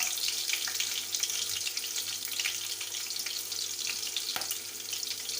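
Whole spices and bay leaf fry in a pan, giving a steady, fairly faint hiss and crackle that runs throughout with no talking.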